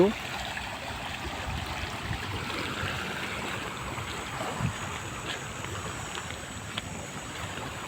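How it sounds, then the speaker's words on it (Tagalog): Strong, steady rush of flowing water beside a new access road near Barangay Barra, Lucena City, Quezon Province, a broad continuous roar close to the microphone with some wind buffeting, lasting throughout. "lakas ng bubugan ng tubig"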